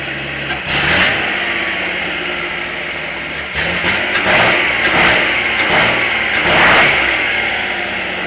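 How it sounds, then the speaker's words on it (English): A custom-built three-wheeled car with a Subaru XT6 engine revs through side pipes, loud and close, with a steady idle broken by several rising revs. "Boy, those side pipes sound good."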